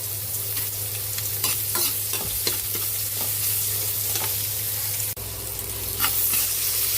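Garlic and onion sautéing in a hot pan, a loud, continuous close sizzle broken by bursts of scraping and stirring, with a low steady hum beneath and no speech.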